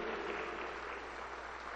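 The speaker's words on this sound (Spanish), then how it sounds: "Aplauso para el Señor Jesús" Sustained applause from a church congregation during a sermon, steady and fairly loud throughout with no pauses.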